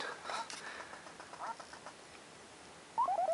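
Duck Hunt on a Famicom plays faintly, with soft electronic game noise leading to a short run of quick quacking chirps at the end.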